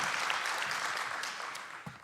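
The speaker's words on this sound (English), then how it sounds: "Let's give them one more round of applause." Applause from a youth summit audience, a fairly soft, steady patter of many hands clapping that gradually tapers off.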